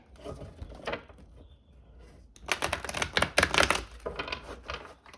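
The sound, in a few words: shuffling a deck of cards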